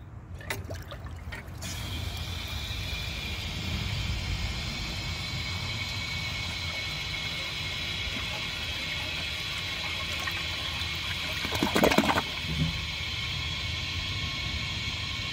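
A 1991 Kohler San Raphael toilet flushes with a rush of water that settles into continuous trickling and refilling, heard close by with a brief clunk partway through.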